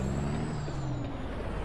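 Truck air brakes in the American Truck Simulator game give a loud, sustained hiss of released air lasting the whole moment, over a low engine rumble.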